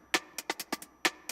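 Drum loop warped in Ableton with Beats mode and its transients shortened hard, giving clipped, dry hits in a quick irregular pattern with almost no decay, solo and without talk.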